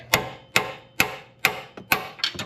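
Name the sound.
smacking a wrench to tighten suspension bolts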